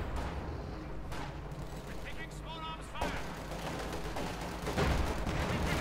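Anti-tank gun fire strikes a Panzer IV in Company of Heroes 2, a few heavy booming shots with mechanical clanks and explosions over continuous battle noise and a commentator's voice.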